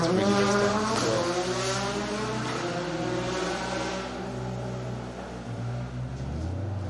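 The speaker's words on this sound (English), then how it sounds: "Oh, Jason and Lee Wilson absolutely drifting that car around." A rally car drifts through a stage at Cadwell, its engine note rising and falling in a continuous revving howl, fairly loud and sustained as it slides around the track.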